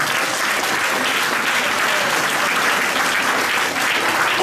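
A church congregation at a healing convention in Côte d'Ivoire breaks into dense, sustained applause that stays loud and even from start to finish, with a few voices faintly mixed into the crowd.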